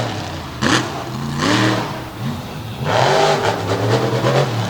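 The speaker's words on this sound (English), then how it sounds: "Just getting the truck warmed up right now." A Team Throttle monster truck at an outlaw monster truck event in Canfield, Ohio revs its engine while warming up, loud and close, in repeated rising blasts that sweep up in pitch and then fall back.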